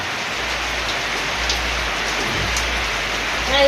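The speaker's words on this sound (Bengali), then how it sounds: "এই যে দেখেন বৃষ্টি শুরু হয়ে গেছে।" Steady rain pours down on an outdoor cooking area, a dense, even patter of drops close by with a low rumbling undertone, no talking.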